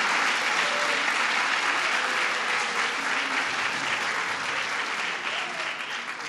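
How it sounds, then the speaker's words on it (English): An audience gives the school principal a big round of applause at a New York education legislation signing, with loud, dense, continuous clapping that eases slightly toward the end. "Let's give her a big round of applause."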